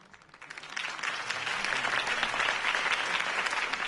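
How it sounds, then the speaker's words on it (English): Crowd applause at a political campaign rally in the Batman Telltale video game, swelling quickly from silence into sustained, dense clapping that holds steady to the end. "If only Mr. Wayne, my campaign's largest backer, could have heard that applause"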